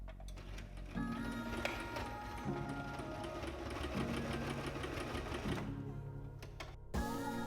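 A sewing machine stitches a fabric cover onto armchair armrests in repeated bursts, its rapid mechanical clatter running steadily and fairly close, with brief pauses between runs.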